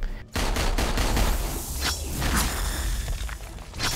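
Deadpool fires his pistols in the Marvel Heroes game: a loud, dense barrage of rapid gunshots with whooshing bursts runs almost nonstop for a few seconds after a short opening crack.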